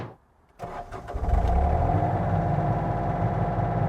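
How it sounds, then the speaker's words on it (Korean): A Yanmar VIO35 mini excavator cranks briefly after a near-silent pause, catches, and settles into a steady, smooth-running engine drone that fills the rest of the clip. "시동 걸었을 때 엔진 상태는 아주 부드럽게 잘 작동이 되네요"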